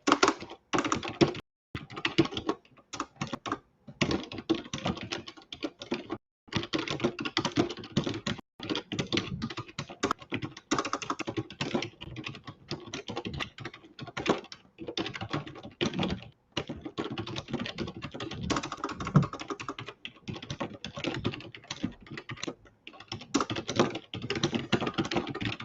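Fast, continuous typing on a computer keyboard, close and fairly loud, with dense clattering key strikes broken by short pauses throughout and no speech.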